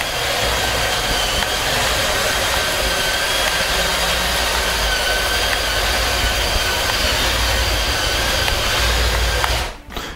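A CADA C61056 RC heavy bulldozer's drive motor runs steadily with a continuous whirring hum, close and fairly loud, before cutting off abruptly at the end.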